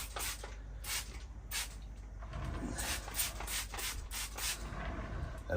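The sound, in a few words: spraying the deadwood of a Chinese juniper bonsai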